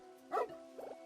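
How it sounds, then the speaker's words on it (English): A dog in the video game Another Code: R guarding a hole in a fence gives a single sharp bark followed by a shorter, softer bark under faint background music. "the dog's being an arse. He's protecting the fence hole."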